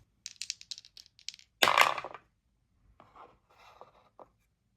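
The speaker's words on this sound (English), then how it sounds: "Let's roll the dice to pick a book." Dice rattle in a hand, then clatter loudly onto a hard surface and come to rest with a few small, scattered ticks and taps afterward.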